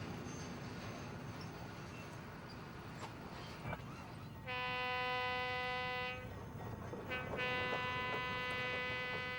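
A little tourist train at Port Stanley, by Lake Erie, sounds two sustained horn blasts over rumbling rail noise, heard at moderate distance with no talk.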